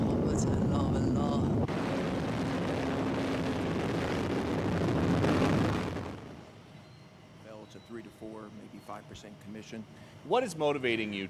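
Loud, dense rumbling blasts and roaring booms of explosions in the Gulf region fill the first six seconds, then fade into quieter background with a voice talking.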